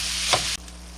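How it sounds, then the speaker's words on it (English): Taco meat with garlic browns in a pan, a brief loud sizzle with one stirring scrape that cuts off abruptly into a quieter background hiss, no speech. "And we're going to let this cook, stirring it once in a while until the meat has browned."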